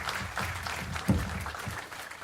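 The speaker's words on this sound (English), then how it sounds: "So warm applause for Adam Scrimshire" An audience applauding a podcast guest, a brief burst of steady clapping from a small crowd, fairly close, with voices mixed in.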